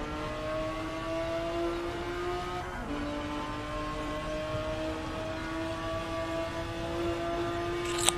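Porsche 930 race car idling in the pits in the rFactor 2 racing game at Le Mans, a steady droning engine tone with a brief rev dip midway and a sharp click at the end.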